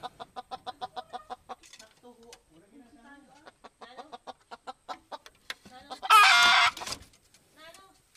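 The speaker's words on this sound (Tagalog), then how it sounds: "Ito yung babaeng labuyo." Female red junglefowl clucks in a rapid series of soft, repeated notes in a mountain setting in Quezon, followed by more scattered calls and a brief burst of louder squawking or crowing, with a person talking.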